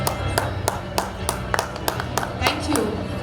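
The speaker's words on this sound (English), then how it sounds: "Can we have huge claps?" An audience claps at the Global India Awards 2024 ceremony with sparse, evenly spaced claps over a few seconds against a murmuring room background.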